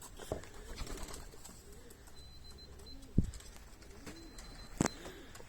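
Racing pigeons landing coo softly in low, repeated rolls, with a couple of sharp clacks or wing flaps and faint background chatter.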